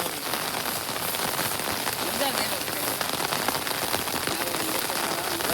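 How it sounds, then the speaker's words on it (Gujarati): Heavy rain pours onto open farm fields in a dense, unbroken hiss that stays loud and even throughout. "વરસાદ કમ્પ્લીટ ચાલુ છે"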